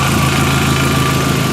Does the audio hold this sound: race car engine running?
yes